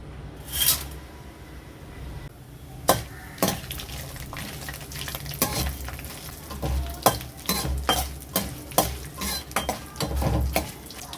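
Pepper, cumin, cloves, cardamom, dried red chillies and cinnamon fry in pure cold-pressed gingelly oil in a pan for a lamb lung curry, sizzling steadily under repeated sharp scrapes and clinks of a stirring utensil.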